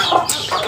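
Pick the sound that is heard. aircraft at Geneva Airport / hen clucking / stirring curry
hen clucking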